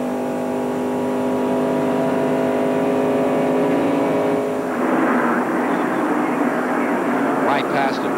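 Stock cars at the 1993 Daytona 500 roar past in a steady, loud engine drone with a rising whine as the leaders arrive, while a race commentator talks over the noise.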